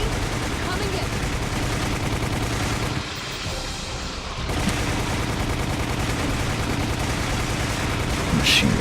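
Loud, continuous machine gun fire in the video game The House of the Misled: Gaiden, rattling steadily with a brief dip partway through, then resuming at full intensity along with other battle noise and some speech.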